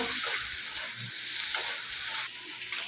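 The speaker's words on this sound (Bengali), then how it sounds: "আলুটা কিছুক্ষণ ভেজে নেব" Potato pieces frying in a pan with onions and garlic sizzle loudly and continuously, with stirring sounds scraping through the hiss; no one speaks.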